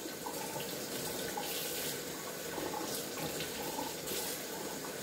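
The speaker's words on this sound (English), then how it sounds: "I gotta wash them in water." Tap water runs steadily into a sink as dirty mushrooms are rinsed before cooking, a continuous close hiss and splash with no talk.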